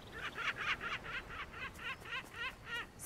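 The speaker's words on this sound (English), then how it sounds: "It's the whoop whoop bird! Bird is laughing at you." A laughing bird in the video game Alba: A Wildlife Adventure gives a fast run of about a dozen rhythmic, cackling whoops, fairly faint and steady with no talk over it.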